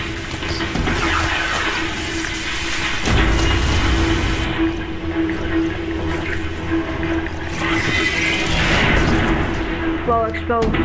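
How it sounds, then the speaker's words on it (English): Explosions and gunfire from a video game rumble continuously and loudly, with dense bursts layered over a steady game soundtrack and effects. "Well, explosions."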